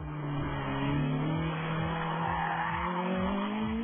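An Ariel Atom is driven hard on a kart track, its engine droning steadily with tires squealing through corners, heard fairly faint and continuous.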